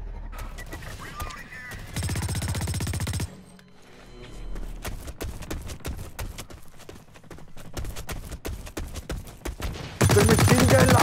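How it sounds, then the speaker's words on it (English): Machine gun fire in the video game Blacklight: dense rapid bursts at the start and end, with scattered sharp single shots and clatter in between. "The machine gun"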